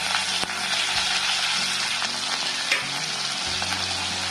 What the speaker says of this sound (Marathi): तापलेल्या तेलात मी मोहरी टाकते, जिरे, मिरची,